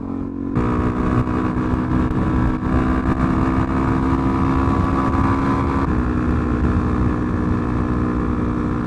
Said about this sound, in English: Every now and then a bike needs a good bloody run.